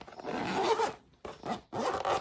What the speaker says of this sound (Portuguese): Aqui a gente pode fechar aqui o nosso zíper, ó.